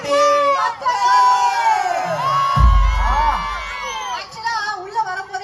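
A large crowd at a Women's Day Sunday celebration in Kovilpatti cheers and shouts with loud whoops and children's voices, while a voice carries over the din and a low thump lands midway.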